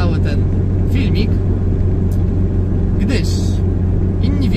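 Small Fiat 126P engine idling with a steady low rumble throughout, close and loud, with brief higher-pitched noises on top.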